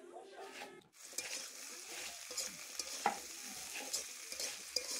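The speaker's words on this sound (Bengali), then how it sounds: "আর এদিকে আলুটা কষানো হচ্ছে, সব কিছু দিয়ে ফোড়ন দিয়ে আলুটা কষানো হচ্ছে।" Potatoes sautéing in a pan with tempered spices, a steady frying sizzle with repeated scraping stirs throughout, close and moderately loud after a brief dip near the start.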